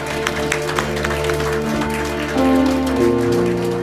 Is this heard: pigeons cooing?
no